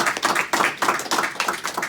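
Room audience applauding a newly promoted trainee, steady crowd clapping in repeated swelling bursts, fairly close and dense, with no talk over it.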